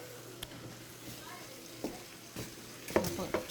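Shrimp tipped into a pot for a shrimp boil, a few clattering splashes and knocks over a faint background sizzle, close and moderately quiet, with no voices.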